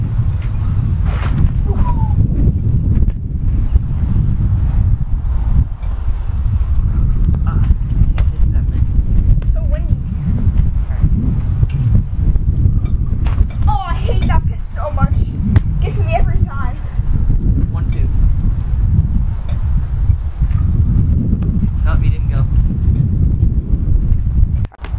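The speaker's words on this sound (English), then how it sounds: "It's so windy." Strong wind buffeting the microphone during a backyard wiffle ball game, a loud, constant low rumble throughout, with faint voices talking beneath it.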